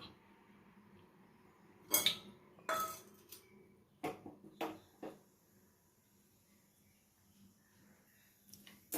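A pan is set down on a stovetop and oil is added while making tomato thokku, giving a few close metallic clanks and clinks spread across a quiet kitchen, with no talking.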